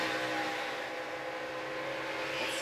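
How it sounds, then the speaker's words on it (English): A NASCAR race truck's engine drones steadily in the distance during a 225-lap race, the tone shifting slightly as the driver eases off the throttle, mixed with broad track and crowd noise. "we're going to hear him get out of the throttle when he gets squeezed up"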